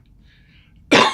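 A single sharp cough bursts out near the end after near silence, close and loud, with a brief throaty rasp.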